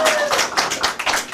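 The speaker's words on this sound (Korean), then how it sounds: "박수 보내주시면." An audience at a live talk show featuring a magician breaks into a brief, dense burst of clapping, with voices mixed in under the applause.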